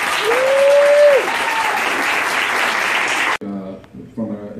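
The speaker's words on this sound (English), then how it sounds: "Can we have a round of applause for our panel?" Audience at a comics festival panel on sports in comics gives the panelists a round of applause, loud steady clapping with a brief whoop, cutting off abruptly before a speaker begins talking.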